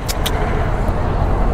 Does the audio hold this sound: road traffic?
yes